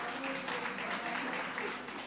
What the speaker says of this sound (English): give the round of applause to an important man